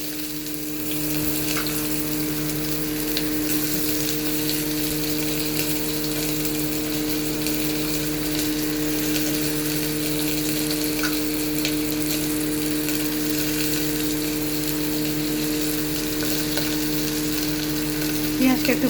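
Onions frying in a pan on medium heat for kabuli chana, giving a steady, close sizzle with a constant hum that runs unbroken for the whole stretch.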